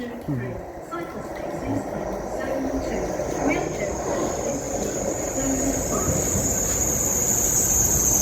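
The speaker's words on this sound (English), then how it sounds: "coming in on platform 1 now is the Penzance service, which is the IET" An IET train on the Penzance service pulling into platform 1 at Teignmouth station, a steady rumble and high whining drone that grows gradually louder under a person talking.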